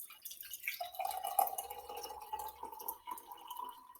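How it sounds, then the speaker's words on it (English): Hot water poured into a glass jar for a heat and temperature lab, a steady pouring stream with a rising ringing tone as the jar fills, lasting the full clip at moderate level with no talk. "So I'm going to put my hot water in my first jar."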